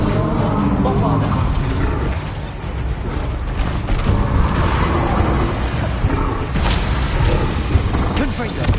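Bombarda explosion spells go off in Hogwarts Legacy, a run of heavy booms and crackling bursts layered over busy game effects, with a voice talking over the blasts.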